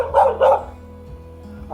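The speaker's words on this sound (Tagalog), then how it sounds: "Aso na naman." A dog lets out two quick loud barks close by beside a river during a Sunday mountain bike ride in Norzagaray, Bulacan, then a third bark starts as the clip ends, over a low engine-like drone.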